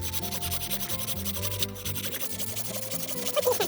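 A bone being sawn with a hand saw while shaping fish-hook blanks, a steady rasping stroke repeated back and forth at close range, with no talk over it.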